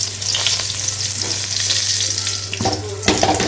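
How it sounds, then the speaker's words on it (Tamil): Mustard seeds and curry leaves sizzle and spit in hot oil for a chicken liver gravy, a loud, close, continuous fry with popping bursts and a brief splash of water near the end. "அவ்வளோ கடுகு போட்டாச்சு. அப்படியே கொஞ்சம் கருவேப்பிலை போடுவோம்"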